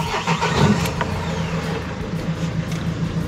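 A mini camper van engine idles steadily nearby, a continuous low rumbling drone with an even mechanical rhythm, no voices over it.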